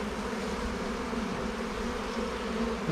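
Honeybees in an opened hive being calmed with smoke by a beekeeper, a steady close buzzing drone from many bees that holds throughout without pause.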